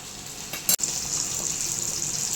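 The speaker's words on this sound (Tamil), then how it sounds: "குழம்பு நல்லா கொதி வந்துருச்சு." Kilangan fish curry bubbling and simmering in a pot, a steady close hiss and burble with one brief knock partway through and no speech.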